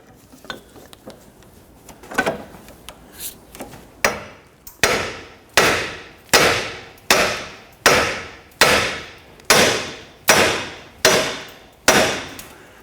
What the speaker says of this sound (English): We're going to use a hammer and strike right here on the knuckle.